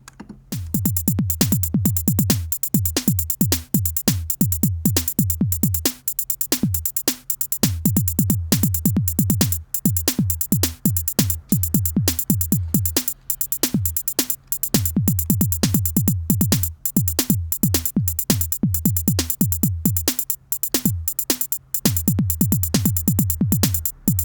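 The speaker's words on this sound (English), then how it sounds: "I will join two Euclidean beats that don't have so much going on" Dense electronic percussion loops for over twenty seconds, sharp clicky hits layered with deep booming kicks in an interlocking, syncopated pattern.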